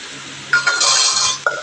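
Food rinsed under a running kitchen tap, a steady hiss of flowing water that starts partway through and runs for about a second before stopping, with faint clinks nearby.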